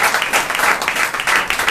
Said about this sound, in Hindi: क्या जोरदार ताली दे सकते हैं उस भले परमेश्वर